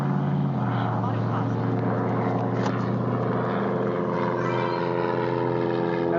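Airplane engines drone steadily at an airport, a loud constant hum with a lowering tone early on that fills the whole stretch while someone speaks over it.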